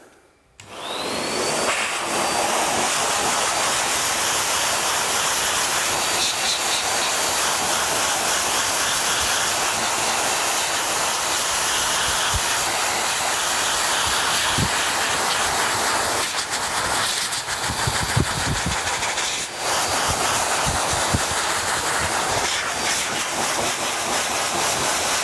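A pet dryer blasts air steadily through a golden retriever's coat, a loud continuous roaring hiss that starts abruptly and runs almost unbroken, with faint shifts as the nozzle moves over the body.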